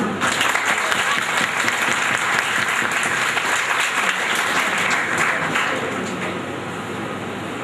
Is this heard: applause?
yes